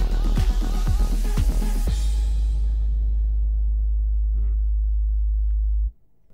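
Loud, heavy sub-bass in an electronic music track, a thick constant low drone under a few sharp beat hits in the opening seconds, then holding steady alone before cutting off abruptly near the end.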